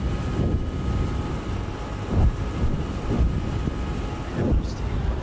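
A low, rumbling tank engine drones in the GHPC combat game, with rhythmic surges roughly every second, steady and fairly loud, with no one speaking over it.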